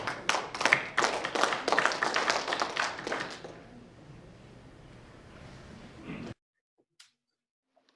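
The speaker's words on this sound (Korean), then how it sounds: "큰 박수로 환영해 주시면 감사하겠습니다" Sharp, distinct hand claps from a small group at the opening ceremony of the 2020 International Safe Tourism Conference. The clapping lasts a few seconds, then fades into quiet room tone and near silence.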